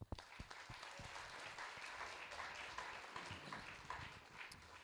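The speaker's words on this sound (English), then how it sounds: "So round of applause for everyone." Audience applause at a PechaKucha night in the Capital Region, a soft, distant wash of clapping with a few sharper nearby claps at the start.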